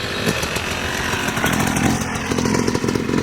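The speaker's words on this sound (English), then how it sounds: "Motorbike in the park." A trail motorbike ridden through a suburban park at Hassall Grove, its buzzy, raspy engine loud and continuous, with a couple of throttle surges, no talk.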